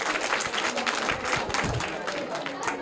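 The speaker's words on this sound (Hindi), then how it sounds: "जोरदार तालियां इनके" A school quiz audience claps for a student's correct answer, a dense wash of steady applause close by with voices mixed through it.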